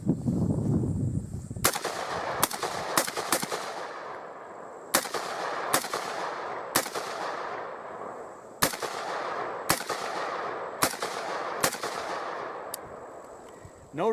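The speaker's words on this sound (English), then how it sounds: "let's shoot some rounds off." Gunshots from a Bushmaster ACR rifle fired outdoors: about a dozen sharp, loud reports, some in quick doubles and triples, others spaced a second apart, each ringing out with a long echoing tail.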